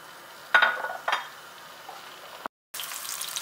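Chopped green peppers and half-moon onion slices frying in a pot on the stove, with a couple of sharp sizzling bursts and clinks, then a steady soft sizzle before a short cut.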